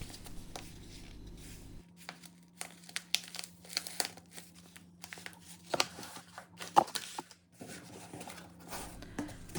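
A 250-gram non-plastic Ziploc bag of masala tea crinkles and rustles up close in irregular bursts, with crisp handling noises and short pauses between, no talk.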